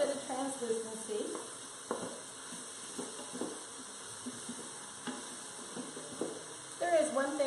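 Celery and onions sautéing in olive oil for white bean chicken chili, a soft, steady sizzle with occasional stirring taps, with a voice speaking briefly at the start and end.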